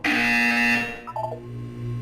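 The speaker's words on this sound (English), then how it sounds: "When you hear the buzzer, look up at the ceiling." A harsh, loud electronic buzzer from the video game Portal 2 blares for under a second, then gives way to a few softer electronic tones and a lower steady hum, with no voices.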